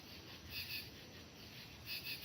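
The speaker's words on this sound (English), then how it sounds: "Oh, these damn crickets are so loud." Crickets chirp outdoors at night in a steady shrill trill that swells and fades in pulses, loud and close, with a low background hiss and no voices.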